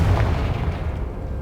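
An explosive Confringo spell fired in the video game Hogwarts Legacy lands as a booming blast, loud at first with a deep rumbling tail that slowly fades.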